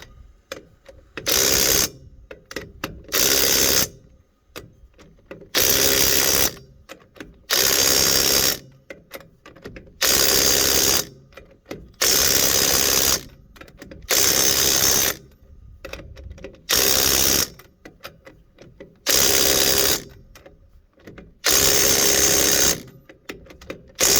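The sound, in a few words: power tool tightening wheel lug nuts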